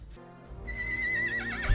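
A horse neighs from the film Spirit: Stallion of the Cimarron, a loud rising whinny ending in a wavering vibrato, set over a low rumbling musical score with no talking.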